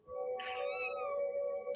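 A kitten meows once in the video game Tallowmere 2: one clear, drawn-out, high-pitched meow that lasts most of the moment. It is loud and alone, and ends with a short bright chirp.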